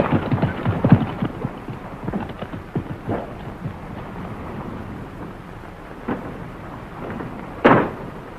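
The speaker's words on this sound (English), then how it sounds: "why don't you tether the horses?" Horses clip-clop on the ground beside a fisherman's hut, a loose run of hoof knocks with a louder thump near the end, set against a low rumbling outdoor background.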